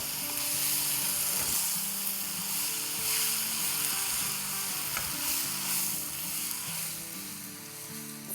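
Vegetables for chow mein stir-fried in a hot pan, a loud continuous sizzle with tossing and scraping strokes layered on top, close and unbroken throughout.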